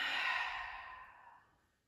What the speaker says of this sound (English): Again, breathing in and out.